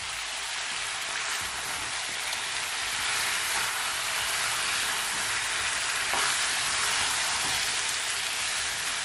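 Turkey neck sears in a pan for Jamaican curry, giving a steady, loud, close sizzle that holds evenly throughout with no one talking.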